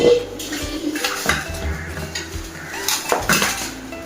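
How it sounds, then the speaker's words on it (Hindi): Dishes and an open mixing bowl clatter and clink as they are handled in a home kitchen while a Russian salad is prepared, several close, sharp knocks and scrapes sounding alone. "जैसे ये एक मैंने खुला बर्तन बाउल लिया है, उसमें मैंने सारी चीज़ें जो हैं मिक्स करनी है।"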